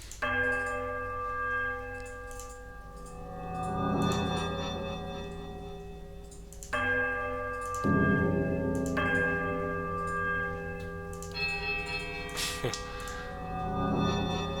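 Temple bells rung in sequence inside the Temple of Eothas in the game Pillars of Eternity, several sustained, ringing chimes of differing pitch striking one after another and overlapping as they decay, with no talk.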